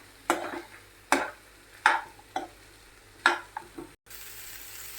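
Fried vegetables being stirred into masala in a pan for mix veg Kolhapuri, heard as a handful of separate scraping and clattering spoon strokes over a quiet, faint frying background, with no talking.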